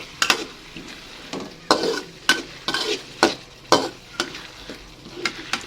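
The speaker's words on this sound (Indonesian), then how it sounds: "Kita masak sampai loncanya matang." Lonca (oncom) cooking in a frying pan, with repeated sharp scrapes and stirring clatters of a utensil over a steady low sizzle, close and fairly loud.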